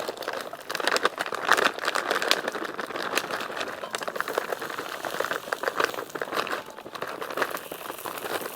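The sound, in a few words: frozen mixed berries being tipped into a dish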